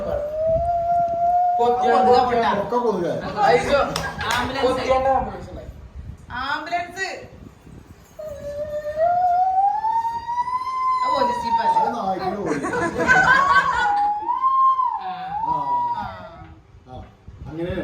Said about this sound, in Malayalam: ആംബുലൻസ്